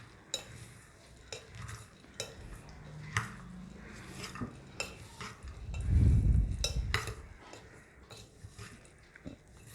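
Masala puffed rice being tossed and mixed in a bowl, giving light dry rustling and stirring scrapes with a few sharper clinks, plus a brief louder burst of handling near the middle; no talking.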